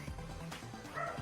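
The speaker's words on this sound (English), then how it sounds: "Dog barking." A dog gives a few quick yipping barks and whimpers over a steady background hum, fairly faint and close together in a short burst.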